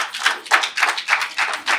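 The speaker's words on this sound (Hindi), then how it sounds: "प्लीज जोरदार तालियां" Rhythmic group clapping for a woman poet stepping onto the stage at a Hindi comedy poetry gathering, about six evenly spaced bursts of claps, fairly close and crisp.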